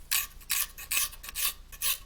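A half round file shapes a wooden cabriole leg in about six quick rasping strokes, each a bright scraping burst with short pauses between, close up and moderately quiet.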